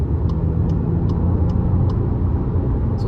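A 2024 Volkswagen T-Cross compact SUV accelerates on a highway past 3,000 RPM, a steady loud engine and road rumble with faint regular ticking over it.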